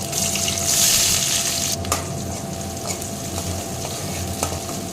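Finely chopped large onion hits hot oil already spluttering with fennel seeds and cinnamon, giving a bright burst of sizzling that settles into a steady close crackle with a few stirring clinks.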